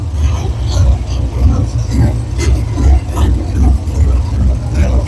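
A dirt modified race car engine idles steadily, a loud low rumble with even pulsing that holds throughout, up close.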